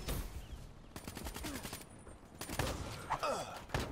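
Rapid bursts of Man of War rifle fire from Black Ops 3 rattle in quick volleys, short sharp cracks in clusters separated by brief gaps, with faint game effects around them.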